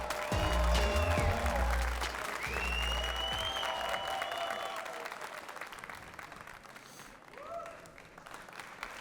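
Loud audience applause fills a theatre or club hall as a stage curtain opens, steady dense clapping with some crowd noise that fades and thins toward the end, with a few voices over it.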